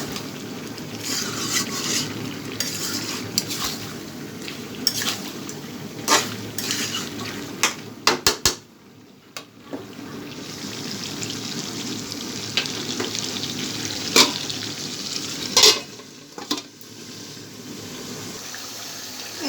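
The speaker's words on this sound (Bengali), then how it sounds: "ভালো কষিয়ে নিচ্ছে" Prawn and cucumber curry being sautéed and stirred in a pan, with a low sizzle under scattered spoon scrapes and clinks against the metal, plus a few sharper knocks near the middle.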